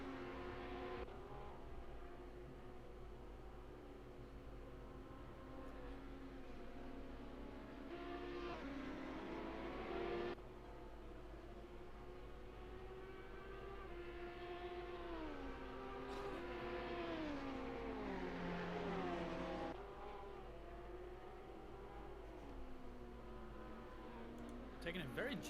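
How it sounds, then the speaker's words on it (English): A pack of GT3 race cars in a sim racing game roars down the front straight at the Red Bull Ring, engines droning and rising in overlapping pitch sweeps, steady and fairly close, while a voice talks over them. "Big pack of cars coming down in the front straight right now."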